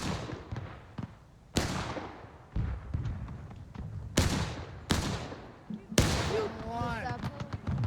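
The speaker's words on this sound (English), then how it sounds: "Come down here and listen to this cannon." Several loud, sharp booms of cannon fire ring out at irregular intervals over a constant background of game battle noise, with a voice talking in between.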